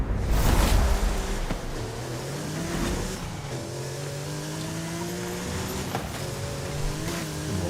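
A Porsche engine in a racing video game drones and shifts pitch as the car accelerates, a sustained engine tone with rising and falling notes after a louder burst at the start, and no one speaking.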